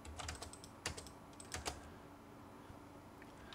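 Computer keyboard typing for AutoCAD commands, a short burst of key presses and heavier Enter taps near the start, then quieter room noise with a faint hum.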